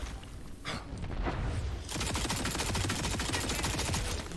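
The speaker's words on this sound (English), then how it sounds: "Oh, I'm shooting saw blades." Rapid automatic gunfire from a saw-blade-shooting weapon in Tiny Tina's Wonderlands, a dense fusillade of sharp, quick bursts that kicks in about halfway through and keeps going loud and steady.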